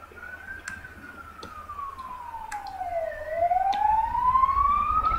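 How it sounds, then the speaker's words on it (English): A police-style siren wails alone at moderate distance, its pitch sliding slowly down and then sweeping back up in one long continuous cycle, with faint clicks and ticks in the background. "Siren."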